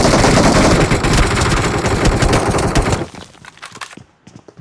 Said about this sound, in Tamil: இப்போ வந்து அவங்க கூட கவர் ஃபயர் பண்ணிட்டு இருக்காங்க அந்த சைடு இருந்துட்டு.